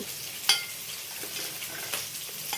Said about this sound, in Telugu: ఆనియన్స్ మంచిగా వేగాలి, అప్పుడే బాగుంటుంది